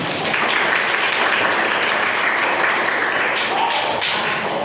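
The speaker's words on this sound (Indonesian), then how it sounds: "Ya, tepuk tangan dulu." A classroom of students claps, giving a steady, loud, close wash of hand clapping that continues evenly throughout with a few voices faintly underneath.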